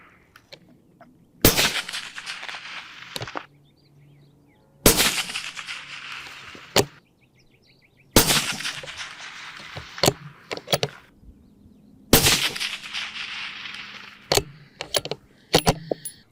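Four loud rifle shots fired at 500-yard targets, evenly spaced a few seconds apart, each followed by clicks and clacks of bolt cycling and handling.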